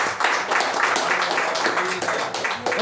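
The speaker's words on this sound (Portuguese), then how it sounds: "Vamos bater uma salva de palmas para Cristo." A church congregation claps together, a brief, steady burst of many hands applauding in a room, fairly loud and continuous with faint voices underneath.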